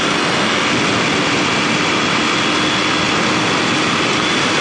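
A Kawasaki KLX250sf streetbike fitted with Ninja 250-style road tires rides a gravel road, giving a steady, loud, broadband roar of engine and wind with continuous rumble and no pauses.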